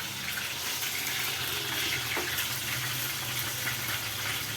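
Water runs steadily into a drinking glass in a home kitchen, a continuous close gushing pour with no speech over it.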